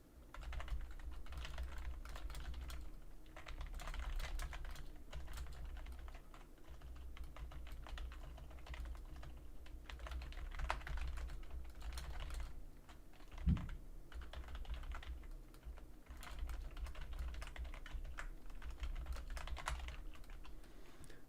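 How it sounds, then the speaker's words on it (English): Someone types on a computer keyboard, a faint, steady run of soft clicks with brief pauses, heard alone without talk. "Hopefully you can't hear my typing because it's very loud in my ears."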